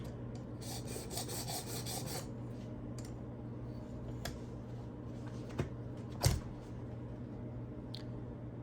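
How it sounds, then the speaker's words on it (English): Knife blade drawn across the stones of a Work Sharp Precision Adjustable Knife Sharpener, giving a run of close, raspy grinding swipes with a few sharper scrapes later on, and no talk. "Just going to start right in the middle, do a few swipes, see where I'm grinding."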